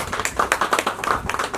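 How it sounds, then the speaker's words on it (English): Audience applause at a glamorous evening launch of an interior design magazine issue: brisk, rhythmic clapping from a modest crowd, close and fairly loud, with no talk. "And huge round of applause"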